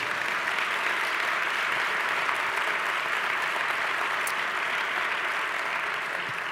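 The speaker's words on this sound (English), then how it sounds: "Any family or friends of Naima's here? Let's give them a round of applause" Audience at a neighborhood community meeting in a boys and girls club gives a round of applause for a family, steady dense clapping that fills the room evenly from start to finish with no voices over it.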